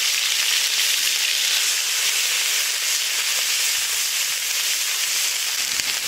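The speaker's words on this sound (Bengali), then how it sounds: "ভালো করে নেড়ে নিয়ে কয়েকটি পেঁয়াজ ভাজি" Onions frying in hot oil with bay leaf, cumin, cloves, cardamom and cinnamon for a pointed gourd curry, a loud, dense, continuous crackling sizzle held steady from start to finish, close up, with no voices.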